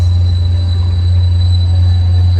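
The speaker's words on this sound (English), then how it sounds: "And it's such a loud train." A loud passing train makes a heavy, continuous low rumble with a faint high whine above it, close by and steady throughout, with no voices over it.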